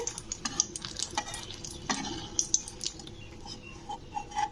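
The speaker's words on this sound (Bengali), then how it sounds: "আমি কড়াইয়ের মধ্যে তেল দিয়ে প্রথমে ভেজে নিচ্ছি শুকনো লঙ্কা চারটে" Four dried red chillies frying in oil in a wok, a soft continuous sizzle with frequent light stirring scrapes and small clicks close by, with no talk.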